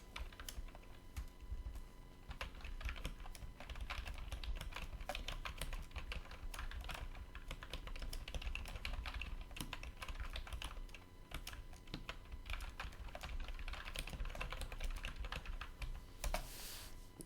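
Steady typing on a computer keyboard, a fast run of light clicking keystrokes close by, continuous with brief pauses, while building an online store.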